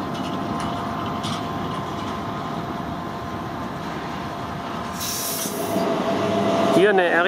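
A Re 465 electric locomotive rumbles steadily past at close range at Basel Bad station, with a broad, continuous roar and a brief metallic squeal near the end.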